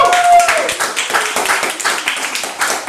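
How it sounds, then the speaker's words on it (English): An audience at a Halloween event at Bank Street bursts into loud, close applause, a dense patter of many hands clapping for a few seconds, with voices mixed in. "Give yourselves a round of applause."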